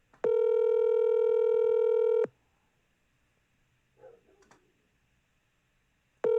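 Telephone call rings out in a long, loud steady tone, goes quiet with a faint click partway through, then starts ringing again at the end, with no one speaking.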